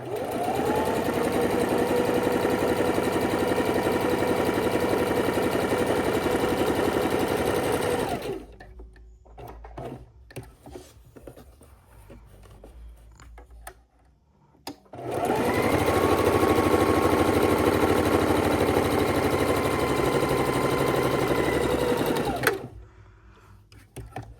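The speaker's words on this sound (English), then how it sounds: "you can chain stitch the second one as well" A sewing machine chain stitching quilt blocks runs loud and steady in two long stretches, with a quieter pause between where fabric is shifted and handled close by.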